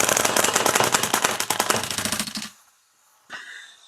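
An airsoft MWS gas-blowback rifle fed from an Angry Gun magazine fires a rapid full-auto burst of sharp cracks that abruptly stops as the magazine empties, followed by near silence and a brief clack.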